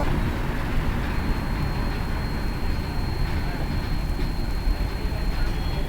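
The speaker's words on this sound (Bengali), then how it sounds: "আমাদের ট্রেন বর্ধমান থেকে ছাড়লো" The Howrah–Guwahati Saraighat Express pulling out of Bardhaman station, heard from inside the coach as a steady low rumble of the running train with a faint high whine above it, continuous and fairly loud throughout.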